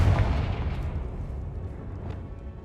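Confringo fire spell blast in Hogwarts Legacy: a heavy low boom already under way, rolling and rumbling as it slowly fades over a couple of seconds, with no voices.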